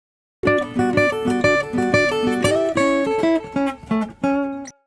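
Acoustic guitar track with panned harmony parts and a lead line on top, strummed chords ringing full and steady for a few seconds.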